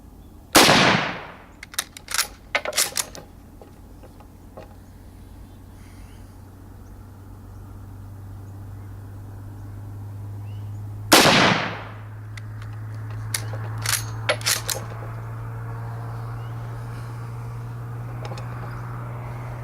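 Two loud, sharp rifle shots from a Mosin Nagant 91/30 ring out at an outdoor range about ten seconds apart, each followed by echoing reports and clatter, over a steady low hum.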